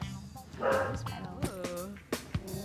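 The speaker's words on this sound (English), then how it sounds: "We were playing with the dog." A dog yips and barks in short bursts while being played with indoors, close by, with people talking and laughing over it.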